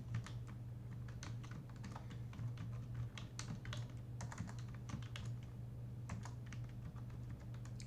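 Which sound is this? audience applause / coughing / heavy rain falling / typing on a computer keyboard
typing on a computer keyboard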